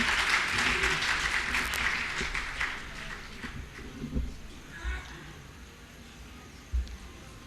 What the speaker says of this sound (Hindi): आप लोग अपनी ताली की गड़गड़ाहट से उनको आमंत्रण दें